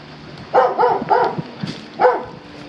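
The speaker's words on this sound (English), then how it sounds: "Got a big dog back there." A big dog behind a fence barks several times in a quick burst, then once more after a pause, fairly close and clear with no talk over it.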